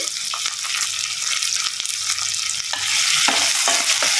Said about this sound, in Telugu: ఉల్లిగడ్డలు అవుతున్నాయి కదండి, అందులో మునక్కాడలు వేస్తున్నాను